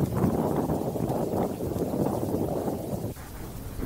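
Strong wind and rain lash the India-Pakistan border region during Cyclone Biparjoy in Rajasthan, a steady, loud broadband roar of gusts and falling rain with no voices.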